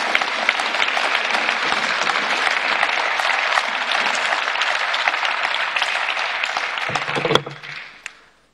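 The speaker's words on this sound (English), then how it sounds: "Thank you for your applause." Sustained audience applause in the chamber during the 2018 State of the Union address, a dense, steady wash of many hands clapping for several seconds before fading out at the end.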